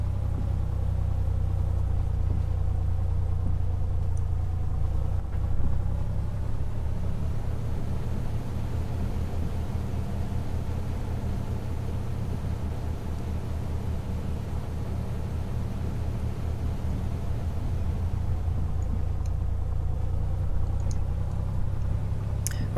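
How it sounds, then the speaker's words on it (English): Piper Comanche 250 aircraft engine in the FSX flight simulator game with A2A Accu-sim, a steady low propeller-engine drone and rumble with wind noise, continuous and even throughout. "The engine sounds are just brilliant."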